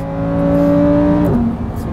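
A Lamborghini Huracan Evo's naturally aspirated engine drones loudly from inside the car during drifting, holding a steady high pitch before dropping sharply near the end as if shifting or easing off.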